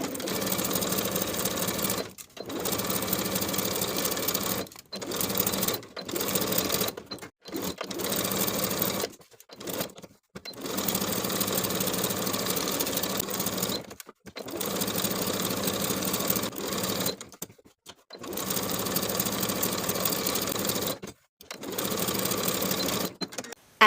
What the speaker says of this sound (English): Then we'll sew each of the armholes and the neckline from the back all the way around to the opposite back piece with a